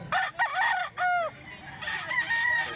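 A bull stag gamecock at a Philippine farm crows close and loud, a strained cock-a-doodle-doo broken into short bursts, then a longer drawn-out call, without talking.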